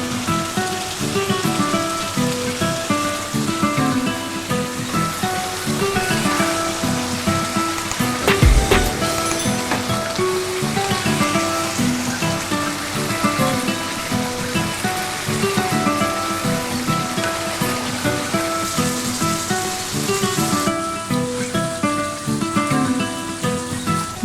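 Chicken karahi frying loudly in a pan just after red chili flakes are added: a dense, continuous sizzle with a brief clatter partway through and no talking.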